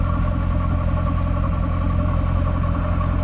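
A C5 Corvette engine idles close by, a steady loud rumble with an even low throb and faint clatter throughout, and no one talking.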